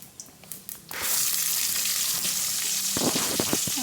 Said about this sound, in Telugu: ఇప్పుడు పోపు వేసుకుందాము